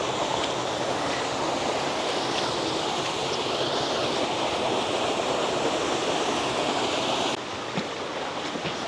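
River water rushing steadily near Tuklas Waterfalls, a dense, continuous broadband roar close by with no talk, holding constant and dipping slightly in brightness near the end.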